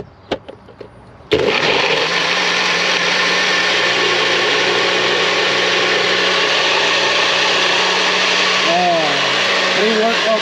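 A kitchen blender whirs loudly and steadily for about nine seconds after a few knocks and clicks at the start, with a faint voice near the end.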